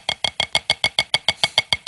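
Fast, even run of about a dozen finger strokes whose notes blur together instead of sounding separately, steady rapid pulses, close and fairly quiet.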